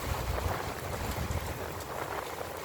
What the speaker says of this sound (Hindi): ये देखिए कितना तेज़ बारिश हो रहा है।